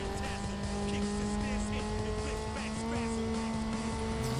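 A Honda race car engine revs steadily in Need for Speed: Underground, a sustained high-pitched motor drone that runs straight through with tire noise, while an excited voice urges it on over the top.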